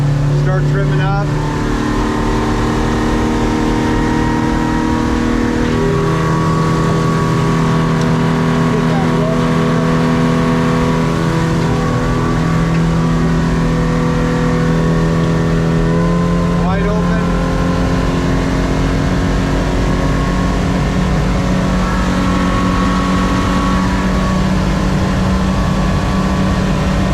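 A 2008 Crestliner 1650 Sport Angler with a Mercury 60 outboard climbs onto plane, the motor's loud steady drone rising in pitch as it accelerates over water, with wind and hull noise throughout.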